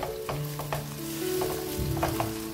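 Onions for chicken korma brown in a pan, giving a continuous close sizzle with intermittent stirring scrapes and clinks, no voices.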